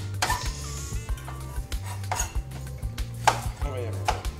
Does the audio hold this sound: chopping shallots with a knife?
yes